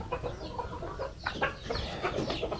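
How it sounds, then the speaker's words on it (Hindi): A hen clucks repeatedly in a domestic yard, soft and moderately close, with irregular short clucks and faint background rustle; no one speaks. "एक मुर्गी दोस्तों हमारी, उनके घर चली गई इस वाले घर"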